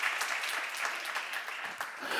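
A church seminar audience applauds. Dense, sustained clapping from many hands carries through the whole moment at an even, moderate level.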